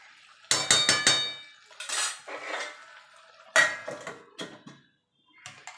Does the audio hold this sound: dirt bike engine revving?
no